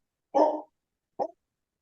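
A dog lets out a whimpering bark followed by a second short, fainter yelp, two separate calls with quiet between them, indoors in a house.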